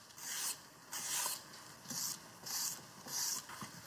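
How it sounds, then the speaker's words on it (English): A julienne peeler shreds a carrot into strips in six even, rhythmic rasping strokes, close and fairly quiet, with no voices. "I'm just going to use a little julienne peeler, which is a great way of getting nice shards of carrot"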